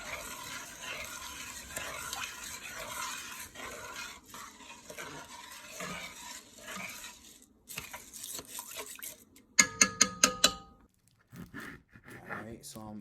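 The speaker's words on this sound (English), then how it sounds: "Get your fork, just stir it around" A fork scrapes and stirs jambalaya around in a pot, with soft clinks and rustling under ongoing talk, then a run of sharp metallic taps and scrapes near the end.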